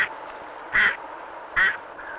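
A mallard duck, dabbling in mud and weed on a lake, gives two distinct quacks about a second apart, clear and moderately close against soft outdoor background sound.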